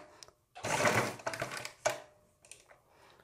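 A sewing machine stitches a cord onto a kurti neckline in a short burst of quiet mechanical whirring, then a few softer taps, close but faint.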